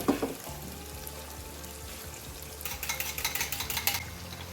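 A spoon stirs biryani masala and red chilli through a sizzling pot, starting with a light fry and turning into quick, rhythmic scraping strokes near the end, close and moderately loud.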